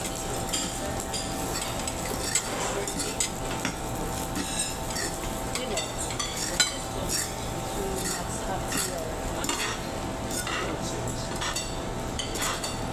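Food being stirred and mixed with cutlery at a table in Gerry Restaurant in Butuan, with busy clinks and scrapes against a plate over a steady sizzling hiss. Restaurant chatter sits in the background.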